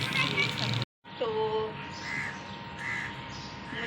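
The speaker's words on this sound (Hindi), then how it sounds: "एक वो कौवा आया है" Crow cawing a few times from a rooftop on a rainy day, short harsh calls standing out near the mic, with someone talking quietly around them.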